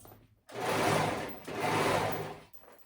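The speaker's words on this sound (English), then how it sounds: "I'm gonna go ahead and finish sewing this side" A sewing machine stitches the side seam of a flounce top in two sustained whirring runs separated by a brief pause, close and moderately loud, with no talking.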